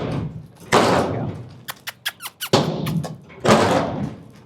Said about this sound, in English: The door's wiggling in here now because he like threw himself up in there.